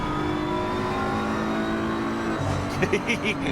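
A BMW race car in a sim racing game chases a Ferrari through a braking zone at Imola, its engine droning loud and steady before the pitch drops under braking, while a commentator talks over it.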